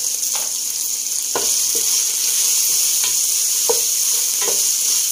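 Chicken stir fry sizzles on a high flame with dark soy sauce, a bright continuous hiss punctuated by several sharp scrapes and clacks of a spatula against the pan, close and fairly loud.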